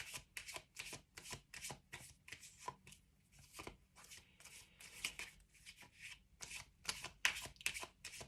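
Repeated crisp riffling bursts of tarot cards being shuffled, close and fairly quiet, in an irregular rhythm of quick flurries with short pauses between.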